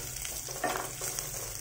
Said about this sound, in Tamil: இந்த பூண்டு ஆட் பண்ணி நீங்க நல்லா ஃபைனா இந்த மாதிரி சாட்டே பண்ணிக்கலாம்